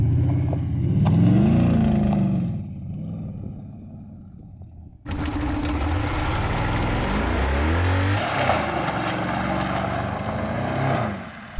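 A BMW V8 engine drained of oil runs hard in an endurance test, its revving growl rising and dipping, then surging into a louder, rougher roar partway through, close and mostly free of speech.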